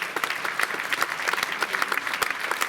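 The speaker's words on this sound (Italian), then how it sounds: "l'applauso è meritato" Audience applause for musicians and singers at a concert in the Sala Europa of Taglio di Po, steady dense clapping from a hall crowd, close and even throughout with scattered louder claps.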